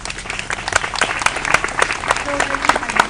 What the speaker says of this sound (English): So can we give a round of applause for the givers?